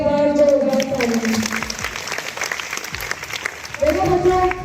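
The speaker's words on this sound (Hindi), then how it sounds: "तो उस बच्चे के लिए एक बार जोरदार ताली।" Loud applause from a school assembly crowd cheering a top-ranking student, a dense sustained clatter of clapping that swells again near the end, with a voice speaking over it at the start and close.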